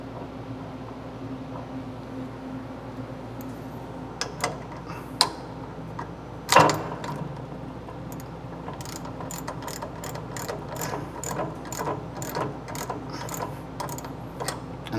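High-pressure pump nozzles being twisted and tightened into place by hand, a run of small metallic ticks and ratcheting clicks with one louder knock midway.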